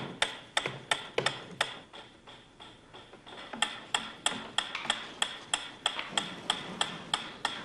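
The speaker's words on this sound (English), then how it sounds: "A ticking metronome." A ticking metronome used as a stimulus in a dog conditioning experiment beats out a steady, even run of sharp ticks, moderately loud and alone.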